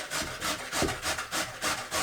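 Potatoes are shredded on a hand grater in a village house kitchen, a rhythmic rasping scrape repeating about every quarter second, close and crisp, with no talking.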